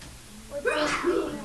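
A single close sneeze bursts out after a brief inhale, loud and sharp, with no talking around it.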